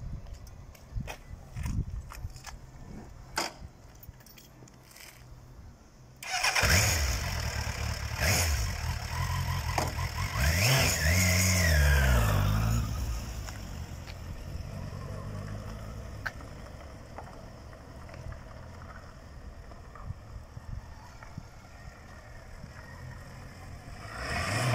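A Suzuki Bandit 1200S motorcycle engine starts after quiet rustling, then a loud, sustained engine roar rises with revving as the bike pulls away, settling into a steadier running drone that continues to the end.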